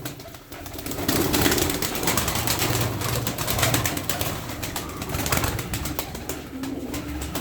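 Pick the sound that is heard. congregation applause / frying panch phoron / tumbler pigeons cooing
tumbler pigeons cooing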